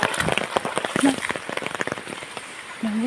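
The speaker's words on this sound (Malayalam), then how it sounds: "മഴ പെയ്തു ഗൈസ് മഴ പെയ്തു" Rain patters steadily on a surface, a dense crackle of drops with a couple of short tonal squeaks near the end.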